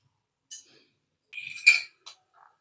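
Murukku dough being mixed with hot oil in a bowl: a few light metallic clinks and scrapes of a utensil against the bowl, sparse and close, with silence in between.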